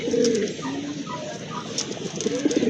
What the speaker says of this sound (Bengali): এই যে দেখেন কবুতর কিন্তু মাশাল্লাহ অনেক অ্যাক্টিভ কবুতর